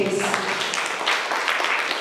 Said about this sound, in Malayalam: ഒരു നല്ല കയ്യടി കൊടുക്കൂ പ്ലീസ്